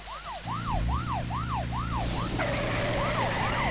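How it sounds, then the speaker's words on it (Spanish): Police car sirens wail in the Deadly Premonition video game, a rising-and-falling yelp cycling rapidly over a low engine rumble, then a second siren joins with a different tone, loud and close. "Oye, esos coches son nuevos, de la policía."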